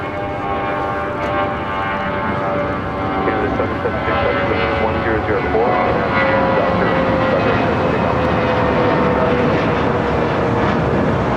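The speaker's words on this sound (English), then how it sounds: "Delta 737 about to cross over 25" Delta Boeing 737 airliner crossing runway 25 at LAX, a steady distant jet engine rumble and whine that holds throughout under a voice talking.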